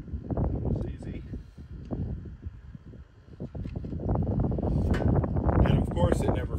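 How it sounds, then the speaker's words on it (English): Wind gusts buffet a microphone outdoors, a close, heavy low rumble that swells and drops throughout and grows stronger near the end. "I immediately have the wind kick up and start blowing things around, so you can't hear me talking"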